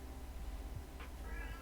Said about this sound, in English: You hear that cat yelling in the background?